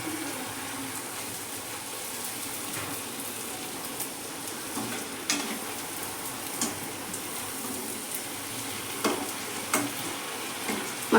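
Homemade pani puri puris deep-fry one at a time in hot oil, a steady bubbling sizzle at close range with occasional clicks and taps from a utensil.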